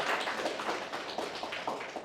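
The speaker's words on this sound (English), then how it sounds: "request everyone to give him a round of applause and welcome Ranvir" An audience applauds a fintech founder at a talk, steady clapping close to the microphone and continuing throughout, with no voices over it.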